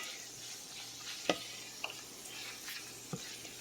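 Sausage frying in its own rendered fat in a pan, with no oil added, gives a faint steady sizzle and a few soft clicks of stirring; no one speaks.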